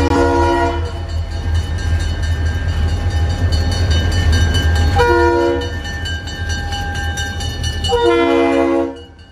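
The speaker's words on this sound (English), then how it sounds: "These two SD40-2s brought in empty train 335 from City Point" Two SD40-2 diesel locomotives of the Florida East Coast Railway, near and loud, rumble steadily while moving a train through a yard lead, with a horn sounding briefly at the start, again around the middle and at the end.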